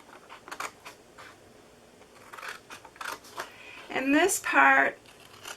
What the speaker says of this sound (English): we are going to cut our box here